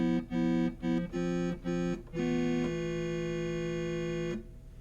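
Polyphonic synthesizer playing sustained chords, first as a run of short stabbed chords, then one long held chord that cuts off, rich in stacked harmonics and heard alone without talk.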